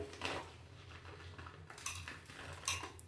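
A heaping tablespoon scoops coarse salt, giving close metallic scrapes and light clinks of spoon against container in a few short bursts with a quiet pause between.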